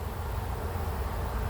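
Honey bees stirred up and agitated at their hive, a dense, steady buzzing swarm close by, continuous and fairly loud throughout with no voices.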